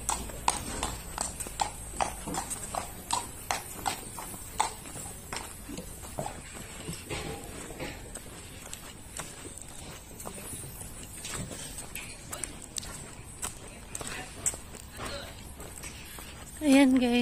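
Horses walking through a riding stable with Olympic-level training grounds in Barcelona, a steady run of hoof clip-clops on hard ground, moderately close, with someone speaking at the very end.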